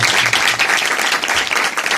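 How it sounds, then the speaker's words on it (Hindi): Applause from a church congregation at a pastor's ordination ceremony, a dense, steady wash of many hands clapping for the full stretch, loud and close with no talk over it. "हम उनके इस जज्बे के लिए भरपूर तालियां बजाकर खुदा उनकी शुक्रगुजारी करें।"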